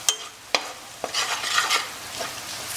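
Onions sizzle in a hot pan while a spoon clinks and scrapes through them a few times, the steady frying hiss swelling as they are stirred.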